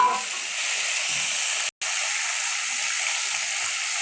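Raw taro pieces dropped into hot oil with cumin seeds, giving a steady fizzing sizzle and hiss close by, with a brief dropout partway through and no talk.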